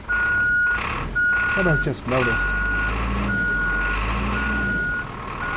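Reversing beeps repeat steadily from an Isuzu truck over its loud running engine, with someone talking briefly near the middle.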